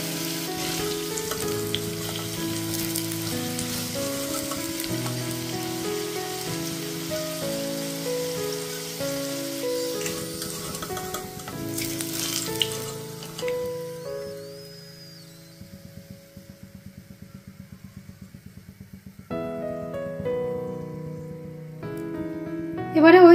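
Potatoes frying in oil in a pan, heard as a light, rain-like pattering sizzle that mostly sits beneath louder melodic background music, with rhythmic ticking crackles near the end.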